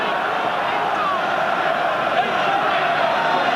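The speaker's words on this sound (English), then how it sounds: "Cacophony from the crowd." A dense roar from a packed stadium crowd at the 1989 Australia versus British and Irish Lions third rugby test in Sydney holds steady and loud throughout, with a commentator speaking over it.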